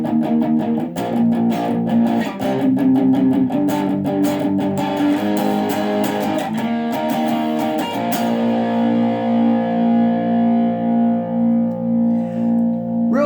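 Distorted electric guitar plays alone: a run of gritty picked notes and chords, then a long sustained chord ringing out and slowly fading.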